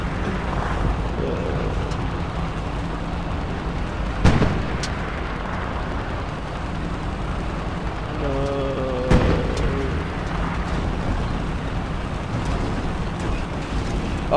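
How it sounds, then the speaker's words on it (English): An explosion as an enemy tank destroys an anti-tank gun in a tank warfare game on a Kursk map: a sharp boom at about four seconds and another near nine, over a steady low rumble of battle ambience. "our enemy tank just blew up AT gun"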